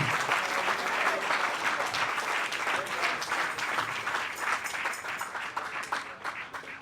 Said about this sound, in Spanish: Denle un aplauso al Rey en esta hermosa y linda tarde.